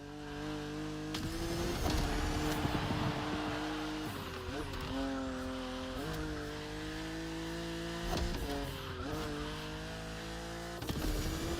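A BMW Z4 E89 coupe cabriolet driving in the video game The Crew: Motorfest: a loud, steady engine drone fills the whole stretch, with revs climbing and dropping through several gear changes roughly every two seconds.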